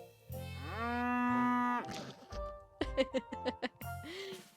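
A cow named Bessie in the Peachleaf Valley farming game gives one long, drawn-out moo that swells and fades, followed by a burst of shorter rhythmic vocal calls and a final brief low moo, all alone with no talk.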